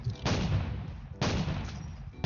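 Guns fire in a Blockies video game, with a few loud, heavy booming shots in quick succession, each followed by a brief rumbling decay.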